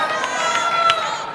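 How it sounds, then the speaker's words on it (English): A crowd at a Wayne Valley vs Wayne Hills high school basketball game cheers in a dense, steady roar with sharp shouts and whistles rising above it, while a voice talks over the noise. "you see the intensity from the crowd, trying to fire up their team"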